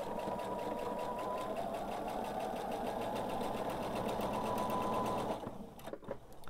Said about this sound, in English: going to start by sewing right on top of the stitching I've already done